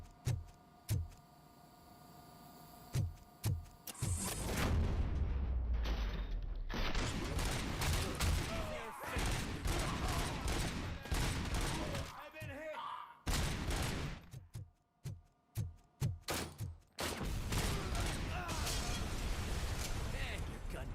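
Gunfire in the RoboCop: Rogue City video game on PS5, loud bursts of shots and mechanical clatter coming in several stretches with quieter gaps, while players talk over the action.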